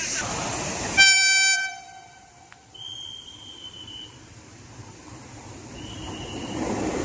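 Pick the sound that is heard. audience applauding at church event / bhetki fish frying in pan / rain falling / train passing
train passing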